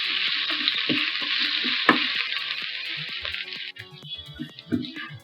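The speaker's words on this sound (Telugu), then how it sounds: "ఎండుమిర్చి కరివేపాకు వేసుకొని ఒక రెండు నిమిషాలు వేగనివ్వాలి" Dry chilies and curry leaves sizzle steadily in hot oil for a tempering while a voice talks over the crackle, the frying fading near the end as speech continues.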